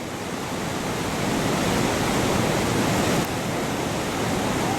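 River rapids at Three Chutes on the New River roar in a dense, steady wash of rushing whitewater, loud and constant with no speech.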